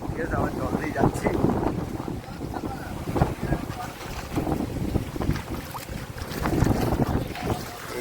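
Boat moving through choppy water near Bakkhali, with strong wind buffeting the microphone, splashing and engine-like rumble throughout, while people talk intermittently over it.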